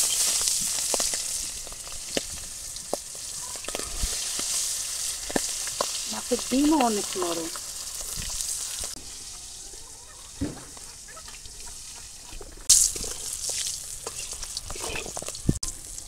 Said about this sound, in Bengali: আগে ডিমগুলো একটু বাজে নেই।